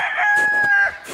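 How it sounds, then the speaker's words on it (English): A lone chicken's sustained, strained call on a small farm rises and holds for about a second, loud and close, then fades into a softer trailing note. "What are you doing, you little lone chicken?"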